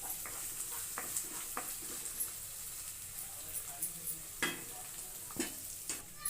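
Ginger garlic paste frying in onion paste in a pan, a constant soft hiss with scattered clicks and scrapes from stirring, close and low in level, no voices.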